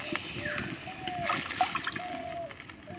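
A measured bowl and a half of water is poured into a pan, giving a run of splashing and sloshing with a faint voice in the background.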